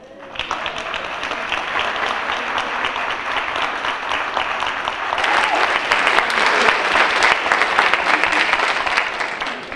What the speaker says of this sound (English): please give our activists one more round of applause